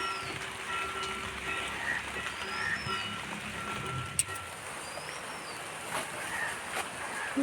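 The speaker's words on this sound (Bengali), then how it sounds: "দেখো পাতাগুলো নিয়ে নিয়েছি আর বৃষ্টি হচ্ছে ভালো একটু বৃষ্টি হচ্ছে কিছুক্ষণ আগে বৃষ্টিটা শুরু হলো" Rain falls outdoors in a garden with pumpkin plants, making a steady, even hiss throughout, with faint chirps above it.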